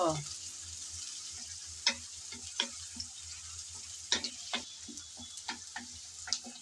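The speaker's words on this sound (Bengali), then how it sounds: "গরম তেলে দিয়ে দিলাম পরিমাণ মতো পেঁয়াজ কুচি হালকা করে নেড়ে চেড়ে ভেজে নেব" Chopped onion frying in hot oil, crackling steadily up close while a spatula scrapes and taps the pan in a loose, irregular rhythm.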